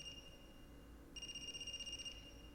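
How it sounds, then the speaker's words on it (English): An electronic telephone rings in the video game AI: The Somnium Files, a steady repeating two-tone warble that starts partway in and continues over a low ambient hum. "Is that a phone ringing?"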